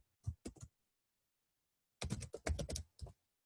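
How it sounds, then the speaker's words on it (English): Typing on a computer keyboard, close and clear: a short burst of a few keystrokes, a pause, then a quicker run of clicks, with no voices. "bet y'all can hear me typing too"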